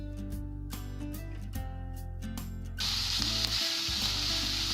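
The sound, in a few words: onions sizzling in hot oil with cumin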